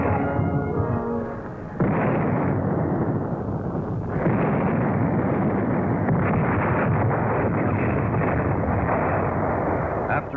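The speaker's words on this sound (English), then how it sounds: "After a heavy artillery barrage" Heavy artillery barrage at El Alamein in 1942, a dense continuous rumble of distant guns and blasts in old archival recording, loud and unbroken throughout.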